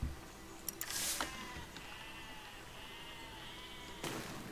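Sheep in the physics video game Besiege bleat a few times over a steady background hum, the calls short and wavering, with no one talking.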